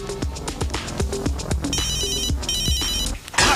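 A phone ringtone rings in a comedy sketch, a repeating electronic melody of bright tones playing loud and steady for several seconds over a rhythmic musical backing, with no talk over it.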